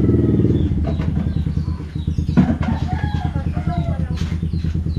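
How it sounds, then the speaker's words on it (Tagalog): Kuya's pet chickens at his home, hens clucking steadily close by with a rooster crowing partway through, and a low mechanical hum running underneath the whole time. "May mga alaga kasi Kuya naman, manok."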